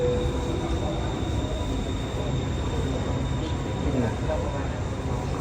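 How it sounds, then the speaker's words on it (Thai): A train rumbling into a station, a steady loud roar with a faint metallic squeal riding on top, close by. "รถไฟมาแล้วนะครับ"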